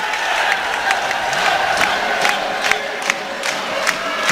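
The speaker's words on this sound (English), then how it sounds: "Caps defensive applause goes on." An ice hockey crowd at an Edinburgh Capitals versus Coventry Blaze game claps and cheers steadily, with repeated sharp rhythmic claps or bangs standing out above the broad arena noise.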